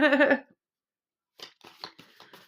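Riffling bursts of shuffling brand-new tarot cards, stiff and reluctant to shuffle, at first, then a pause before a run of quicker papery flicks and shuffles, close and fairly loud.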